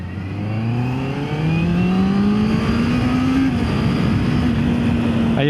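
A Honda CB650R motorcycle with E-clutch revs loud and close, its engine note climbing steadily, dipping briefly at a shift, then holding high. No voices are present.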